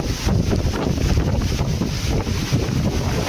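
Typhoon Uwan winds batter Pangasinan in a loud, continuous roar, gusting wind buffeting the microphone with rushing turbulence throughout and no voices.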